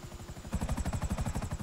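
Military helicopter in GTA 5 Online, rotor blades chopping in a fast steady pulse that swells louder about halfway through, with no other sounds over it.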